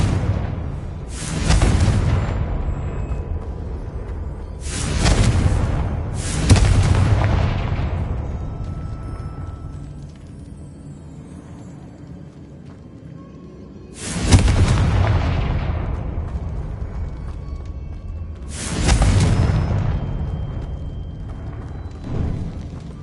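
Confringo fire spell blasts in Hogwarts Legacy land as five heavy, booming explosions spaced several seconds apart, each fading into a long rumbling tail, with no talking.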